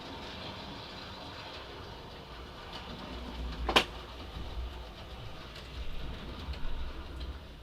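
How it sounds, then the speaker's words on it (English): An O scale model train runs on a small layout, giving a low steady rumble with faint clicking and one sharp metallic click midway, heard close up with no talking. "this is my biggest train"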